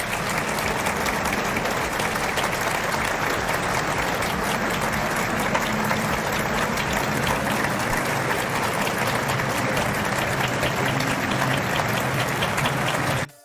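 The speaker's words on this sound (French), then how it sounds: "Écoutez les applaudissements ici à l'arrivée du président Zelensky." Dense, sustained applause from a large outdoor crowd greeting President Zelensky's arrival at the Bastille Day military parade on the Champs-Élysées, steady and loud throughout before cutting off abruptly at the end.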